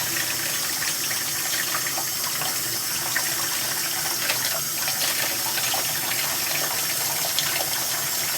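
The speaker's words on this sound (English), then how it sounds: "Add a little bit of water." Steady rushing water poured continuously, a dense even hiss and splash that holds constant throughout without pause.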